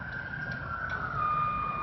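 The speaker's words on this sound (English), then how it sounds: "Or see a fire engine or paramedic ambulance? Hear a police car?" A police car siren sounds as a steady, high electronic tone that drifts slowly in pitch, joined by a second tone partway through, loud and with no voices.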